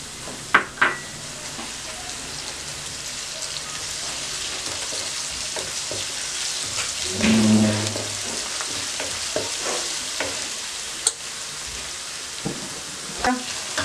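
Continuous crackling sizzle of garlic paste frying in oil with onions, with a brief louder burst midway and a few light clicks of stirring.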